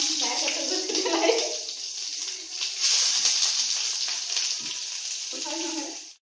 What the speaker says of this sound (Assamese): পিঁয়াজখিনি দি লৈছোঁ গৰম